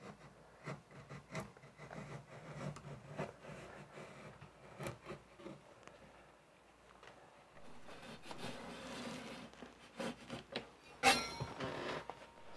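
A taping knife scrapes old caulking away from door trim, with quiet, intermittent scratchy strokes close by, each a short rasp separated by pauses, with no talking.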